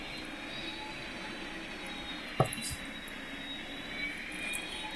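Airplane taxiing slowly in the Roblox game PTFS, a steady low engine drone with a faint high whine, plus one brief sharp knock midway.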